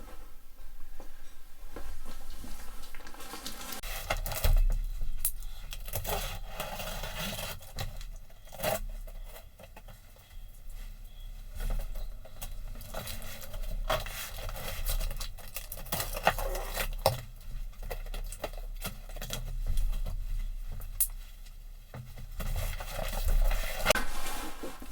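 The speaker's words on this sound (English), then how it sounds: "let's cut this box open and see what we got" A cardboard box holding a three-tier dumbbell rack being sliced open, with scraping, crinkling and tearing sounds in irregular bursts, close and fairly quiet, with no talking.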